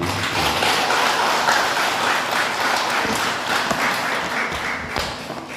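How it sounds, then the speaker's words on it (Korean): An audience at a Buddhist dharma lecture bursts into steady, dense applause that fills the whole stretch at a fairly loud level, with no pause. "박수 한번 쳐주세요."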